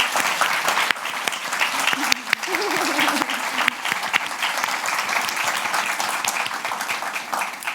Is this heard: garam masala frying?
no